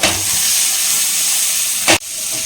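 Green chillies and chopped curry leaves sauté in hot oil in a pan, a loud steady sizzle and hiss with a brief sharp burst of spitting near the end, no talking.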